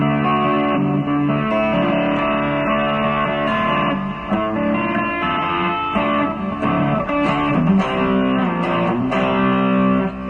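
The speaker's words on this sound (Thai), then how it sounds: "อันนี้เป็นเสียงโอได้" A gritty overdriven electric guitar through a Mooer GE100 effects unit and amp cabinet plays chords and riffs for several seconds, thick and sustained with no pauses. No voices.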